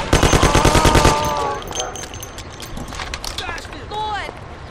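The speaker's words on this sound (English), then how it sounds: "Lord, there's shooting here." Gunfire in the 2002 game Mafia, in a Little Italy house above a pizzeria: a loud, rapid burst of automatic fire for about a second, then scattered shots and commotion while people talk and shout.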